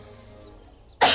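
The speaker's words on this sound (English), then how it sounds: "You'll have to excuse the coughing." A person coughs once, a sharp loud burst near the end that follows a second of quiet room noise.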